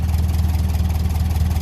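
A 1957 Ferguson 35 TVO tractor engine idles close by, a loud, steady low rumble with an even throbbing pulse and no voices over it.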